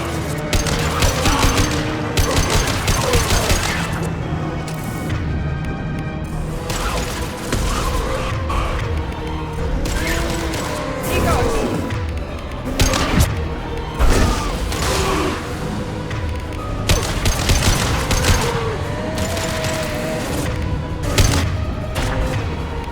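Sustained gunfire in a Mass Effect 2 firefight: rapid, loud bursts of automatic weapons fire and sharp shots repeating densely, with occasional booms and mechanical clatter throughout.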